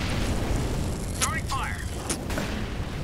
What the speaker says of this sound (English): Incendiary. Throwing fire.